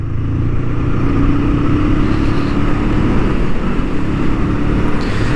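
A 2023 Honda CL 500 with a 500cc engine runs steadily on a racing track, a loud continuous engine drone with mild wind noise and no pauses.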